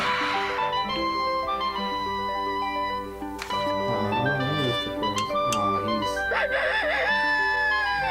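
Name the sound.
rooster crowing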